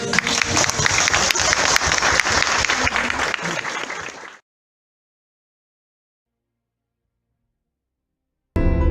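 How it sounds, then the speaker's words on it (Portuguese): Loud audience applause from a crowd at a live religious lecture program, dense and steady for about four seconds, then tapering off into silence before a brief burst of sound returns at the very end. "Uma salva de palmas."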